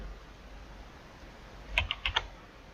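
Several crisp keyboard clicks in a short cluster as code is cut and pasted on a computer, close and alone against a quiet room hum.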